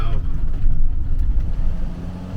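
A van crawls along a muddy, rutted dirt road in South America, sliding in the wheel ruts. A steady, close engine rumble with heavy low-end drone runs throughout, without pause.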